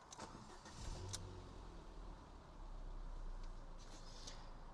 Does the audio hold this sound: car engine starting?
yes